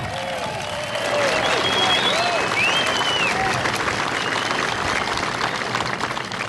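An audience at the Boeing 787 Dreamliner rollout in Charleston, South Carolina, breaks into applause, a dense steady clapping that swells after the first second and holds, with scattered whistles and cheers over it.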